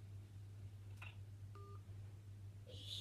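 A single short telephone keypad tone beeps faintly over a low steady hum, with a few soft clicks around it.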